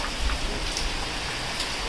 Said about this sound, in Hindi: देखो बारिश कितनी ज़्यादा अच्छी हो रही है, अब भी बारिश स्टार्ट हुई